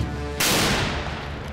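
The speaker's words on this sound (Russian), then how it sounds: "Выстрел произведен." A single booming shot from the main cannon of an Armata tank, a sudden loud blast that rolls into a long, fading rumble in the open air.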